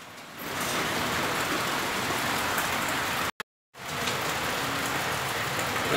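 Steady, dense rain pours down outdoors during the rainy season on a snake-trapping trip in Vietnam, a loud continuous hiss broken by one brief moment of silence.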